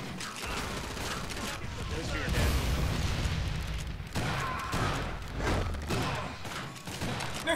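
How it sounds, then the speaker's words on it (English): Grenades blast in a Killing Floor 2 online match, loud booming bursts with mechanical clatter and overlapping game noise, while players talk and shout over the chaos. "He threw grenades straight at you guys."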